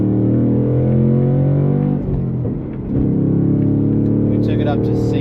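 A 2024 Ford Mustang engine revs hard under acceleration toward 6,000 RPM, a loud, close, rising drone that dips briefly during a gear change and then climbs again.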